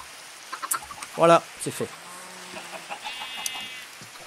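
A Minecraft chicken gives a few short, close clucks, bunched into a quick burst midway, while someone speaks French over the game sounds.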